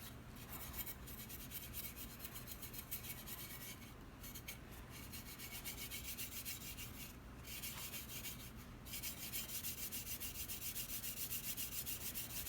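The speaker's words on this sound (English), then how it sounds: "start rubbing in our 4/0 steel wool" Fine 4/0 steel wool rubbing over rusty blued gun metal makes a continuous, quiet, gritty scrubbing hiss, close up and steady with slight strokes, without any talking.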